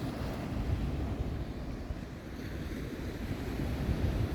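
Waves breaking on an empty beach in Corsica, a steady close rush of surf mixed with wind buffeting the microphone, with no voices.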